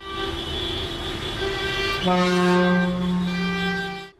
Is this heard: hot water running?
no